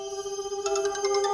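A phone ringtone plays: a steady electronic tone, then a bright repeating melodic ring, fairly close and alone.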